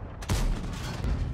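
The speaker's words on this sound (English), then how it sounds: "Fire a shot and I know I hit him because the shell didn't throw up any dust." A CS-52 LIS tank in World of Tanks on the Ruinberg map fires its cannon once: a sudden heavy boom with a rumbling low tail that lingers under the battle ambience.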